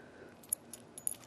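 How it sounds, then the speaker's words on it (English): Keys for a Kaba Gemini 8 mortise cylinder jangling briefly, a few light metallic clinks and chimes in quick succession, close and quiet against near silence. "with 2 tongue depressor keys"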